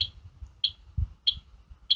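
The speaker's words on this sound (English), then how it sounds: "I really like this fire alarm" A Wheelock AS fire alarm sounding, suspected of a fault, gives short, shrill high electronic beeps that repeat evenly about every 0.6 seconds, close and alone.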